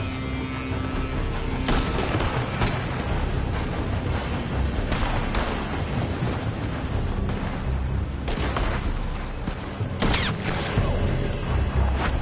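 Gunfire in the game Red Dead Redemption 2 rings out in sharp, loud shots scattered across a dense battle din, with clusters of cracks arriving every few seconds.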